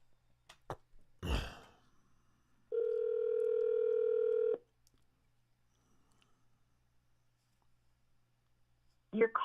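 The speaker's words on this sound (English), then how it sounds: "Alexa, call Double K." A call placed through an Alexa smart speaker produces a steady electronic ringback tone lasting about two seconds, preceded by brief clicks and a breathy sigh, with near-silence afterward and a short burst of sound at the end.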